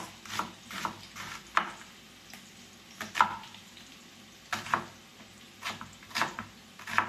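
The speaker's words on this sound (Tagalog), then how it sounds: "Ihintayin po natin siya mag-caramelize ng konti." Onions sauté in a pan for pakbet, with a low sizzle under a series of irregular spatula scrapes and clacks against the pan, close by.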